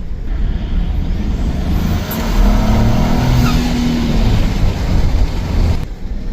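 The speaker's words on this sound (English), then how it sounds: "just so you can get a little more of that turbo sound" A 2025 Ford F-series pickup truck engine pulls hard under acceleration, with a rising turbo whistle over the steady roar, heard through an open window, then the power cuts off near the end.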